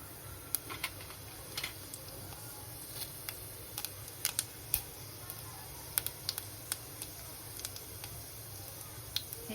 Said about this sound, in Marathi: हे जिरं छान तडतडलं ना